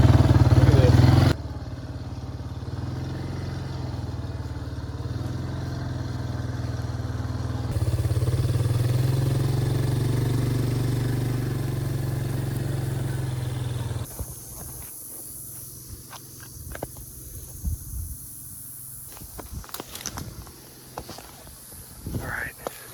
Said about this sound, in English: get the four-wheeler going